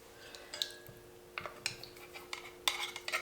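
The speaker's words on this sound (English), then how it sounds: "put your spoon in there and get it all out in there" A metal spoon scrapes and clinks against the inside of an opened can of coconut milk in a few quick, short bursts, close and fairly quiet, with pauses between strokes.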